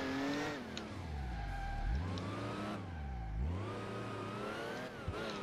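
A sports car in the video game Alarm für Cobra 11 revs repeatedly, its engine pitch rising and falling in several loud sweeps with gear shifts, heard alone without talk.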